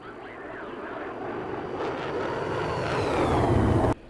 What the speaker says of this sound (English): So pretty much you could land this plane itself